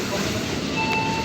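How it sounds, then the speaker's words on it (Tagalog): An arriving train rumbles loudly and steadily through the brief moment, with a faint tonal whine rising near the end, heard close by. "my train is about to arrive"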